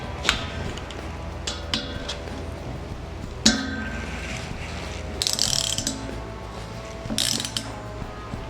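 Ratcheting clicks and clinks from a tool tightening a mountain bike rear cassette lockring, sounding close against a steady background with a few sharper knocks and bursts of rattling.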